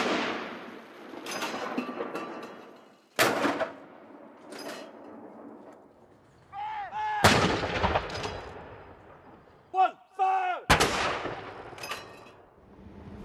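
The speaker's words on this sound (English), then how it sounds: "At midday, in the four nations of the United Kingdom, 41 gun salutes sounded in tribute to the Duke." Artillery guns firing a 41-gun salute in tribute to the Duke, heard as several sharp, distant booms spaced a few seconds apart, each ringing out and echoing over quiet ambience.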